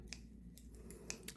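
Scissors cut yarn while switching colours on a chunky velvet yarn bag, giving two or three quiet, crisp snips close by in a quiet room.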